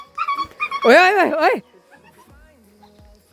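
A dog being played with gives out a high, wavering whine and yips, loud and close, just after a person calls out to it; quieter squeaks and rustling follow.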